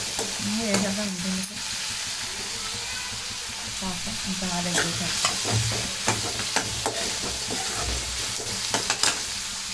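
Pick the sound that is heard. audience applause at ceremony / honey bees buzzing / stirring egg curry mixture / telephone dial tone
stirring egg curry mixture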